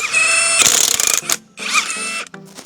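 A 17 mm socket on a ratchet loosens a wheel lug bolt on a BMW E70 X5 with loud, close mechanical creaking and grinding bursts, then short ratchet clicks.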